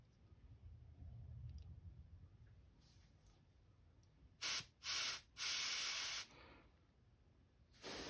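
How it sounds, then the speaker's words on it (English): An airbrush sprays lacquer-base paint onto a swimbait in several short hissing bursts, close and crisp, with quieter handling noise between them and no talk. "putting in my airbrush. This is a lacquer base"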